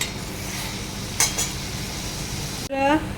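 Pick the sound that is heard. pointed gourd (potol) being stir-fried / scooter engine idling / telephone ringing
pointed gourd (potol) being stir-fried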